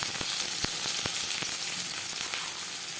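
Chopped onions frying in hot refined oil, a steady dense sizzle with scattered crackling pops throughout, close and fairly loud, no voices.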